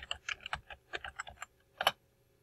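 Keys tapped on a computer keyboard to spell a drug name, a quick burst of about a dozen light clicks followed by one sharper keystroke, close and quiet.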